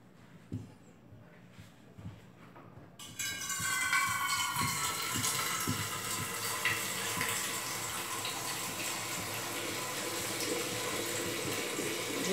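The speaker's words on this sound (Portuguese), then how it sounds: "Deixa enchendo ali logo." Warm tap water pours into a container to add four litres while mixing homemade bleach, starting after a few quiet knocks and then running as a steady, loud, broadband gush until the end.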